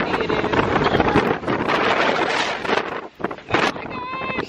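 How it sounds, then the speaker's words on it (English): Strong wind in Santorini, Greece, roars across the microphone in heavy gusts that briefly drop out, with someone speaking near the end. "Y'all, this wind is no joke."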